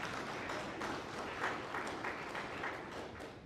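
A round of applause for a school principal at a scholar-athlete awards ceremony, steady clapping from an audience heard at a distance, fairly faint and continuous throughout.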